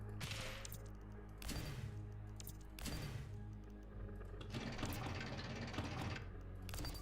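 The Griffin cannon in the video game Cantata fires in rapid bursts, several clusters of sharp crackling shots separated by brief pauses over a low rumbling game backdrop, with no talking.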